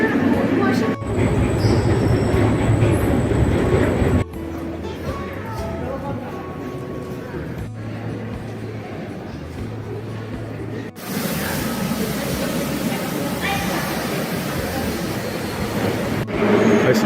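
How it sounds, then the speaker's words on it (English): A St. Petersburg metro train rumbles through a subway station with a steady, loud roar of wheels on rails, shifting in intensity as cars pass, with faint squeals and background voices. "Look at this beautiful metro station."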